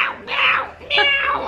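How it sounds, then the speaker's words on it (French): A pet cat meows twice in the home: two loud, close, drawn-out calls with a short pause between them, no talk over them. "Elle peut passer à Ruby, notre chat."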